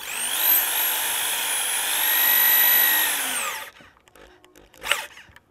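A power drill whines steadily for a few seconds as it drives a 75mm batten screw into wood, then stops, leaving a faint clunk and rustle.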